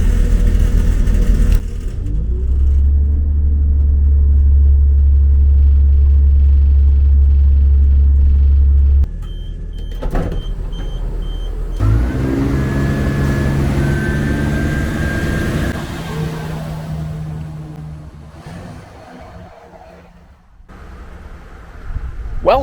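A moving train carriage on a line near Bearley station gives off a steady, heavy low rumble, with shifts in pitch, occasional clunks and a rising whine partway through.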